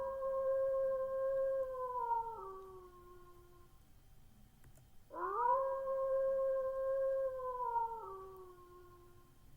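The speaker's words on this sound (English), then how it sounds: "That's a wolf howling." Two long wolf howls in a visual novel game, each a clear sustained tone that bends down at the end, separated by a short quiet gap and heard alone against a faint low background.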